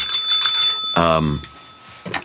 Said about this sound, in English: That deserves a bell ring.